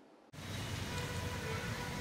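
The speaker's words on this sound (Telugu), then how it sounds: "నెల్లూరు నగరంలో రాత్రి నుంచి తేలికపాటి వర్షాలు కురుస్తున్నాయి" Light rain falls across Nellore city, a soft, even wash of patter that starts suddenly after a brief moment of near-silence and then continues steadily.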